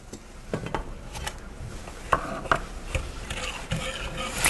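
Brown sugar being stirred into a hot homemade ice cream base just off the heat at 175 degrees, with a string of light, irregular clinks and ticks of a utensil against the pot, close and fairly quiet.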